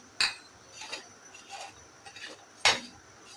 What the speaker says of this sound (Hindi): फ्राई पैन में हम सबसे पहले शामिल करेंगे जीरा और साबुत धनिया।